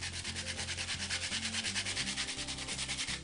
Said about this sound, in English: We'll just start sanding the edges.